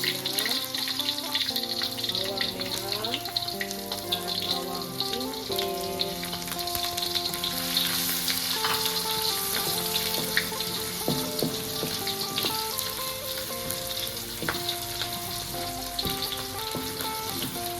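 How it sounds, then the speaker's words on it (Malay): Curry spice paste sizzling and frying steadily in hot oil for a chicken curry, a continuous close crackle that runs without pause, with music playing over it. "sekarang minyak kita sudah pun panas. Kita letak kita punya rempah tumis."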